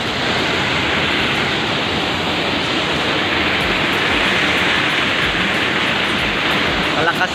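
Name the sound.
Kangangawan Falls waterfall, water crashing down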